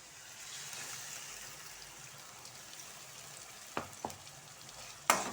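A soft, steady sizzle of tomato paste frying in a pan, with a few sharp clinks of a utensil near the end.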